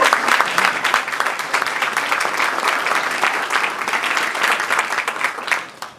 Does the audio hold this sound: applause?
yes